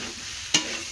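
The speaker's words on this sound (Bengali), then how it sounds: "এখন দিয়ে দেবো মাছগুলো।" Pieces of stingray fish go into a hot pan for a Bengali village-style dry curry, a constant hissing fry topped by a single sharp clack of the pan.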